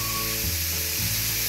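Scooped-out eggplant pulp fries in hot oil for a masala baingan dish, a steady close sizzle with a brief bubbling surge partway through, heard alone.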